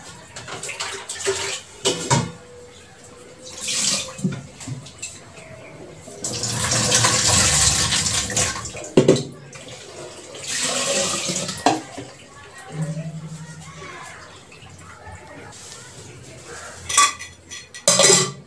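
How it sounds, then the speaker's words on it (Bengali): Tea cups and dishes being scrubbed and rinsed under a running kitchen tap, with bursts of gushing water, a longer steady stream in the middle and light clinks of crockery between pours. "আর সব চায়ের কাপটা সব পড়ে রয়েছে, সব একসাথে মাজবো"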